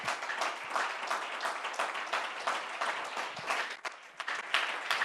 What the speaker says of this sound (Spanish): Fuerte el aplauso para el Señor Jesús